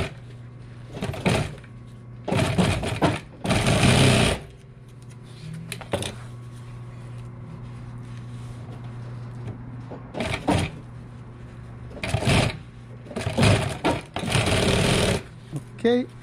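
An industrial sewing machine stitches a seam on truck seat upholstery in several loud rapid bursts of needle chatter, separated by pauses in which a person talks over a low steady motor hum.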